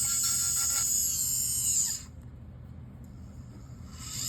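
A dental bur whines at high pitch while trimming an acrylic transitional partial denture, running steadily for about two seconds, then cutting off into a quiet hum before spinning back up near the end.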